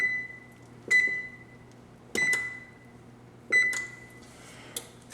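Electronic oven control panel on a home oven set to broil, giving four short sharp beeps spaced irregularly over a quiet room hum, each beep followed by a faint clatter.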